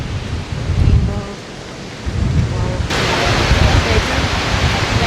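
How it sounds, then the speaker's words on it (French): A waterfall in Iceland roars as a continuous broadband rush, loud and close. The sound surges partway through, and some windy rumble sits underneath. "C'est de la cascade."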